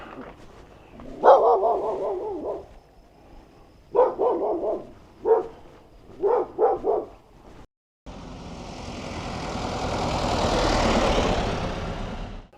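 A dog barks at night at a remote roadside campsite in rural Peru, with several clustered barks in short bursts, fairly close, then a steady broadband roar of wind or engine noise takes over.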